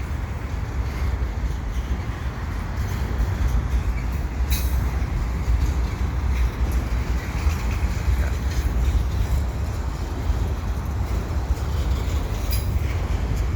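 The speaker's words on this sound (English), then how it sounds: "eastbound Via train just leaving Dorval station on its way to Central Station" Via Rail LRC passenger train pulling out of Dorval station eastbound, a steady close rumble of wheels and rail noise that holds evenly throughout, with faint squeal-like accents near the start and end.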